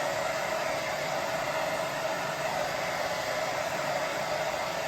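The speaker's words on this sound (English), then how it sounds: "See, when you dry it with hairdryer as well," Hair dryer blows steadily on a paper collage, a continuous even whoosh with a faint whine, constant and close throughout with no talking.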